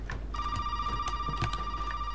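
In the horror video game Resident Evil 7, a telephone rings with a steady electronic tone that starts about a third of a second in and holds unbroken to the end, over a low hum and a few faint clicks.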